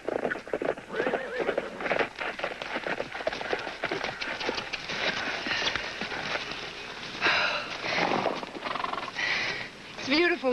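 Horses in a 1971 film scene clip-clop along with a rhythmic beat of hooves. A whinny rises near the end, and voices talk over parts of it.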